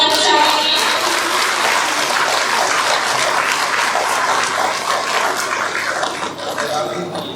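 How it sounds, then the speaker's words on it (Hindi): A crowd claps loudly and steadily at a welcome ceremony for the blessing and inauguration of a newly built church in Kanijadi, a dense, continuous applause that holds for several seconds before thinning slightly. "जोरदार तालियां बजाइए।"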